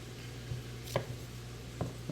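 A knife cutting a peeled carrot into long sticks on a board, a few distinct sharp chops spaced apart over a quiet background.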